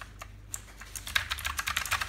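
Typing on a GEEKLIN mechanical gaming keyboard with clicky keys that bottom out, a quick, uneven run of close, crisp clacks that grows busier and louder toward the end.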